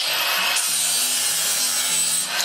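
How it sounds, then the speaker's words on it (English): A polishing wheel on a 4-inch angle grinder grinding metal held in a vise, a loud continuous abrasive rasp with a steady motor hum underneath. "So this is the wheel I use on my 4-inch grinder. It's like a polishing wheel. And it'll grind."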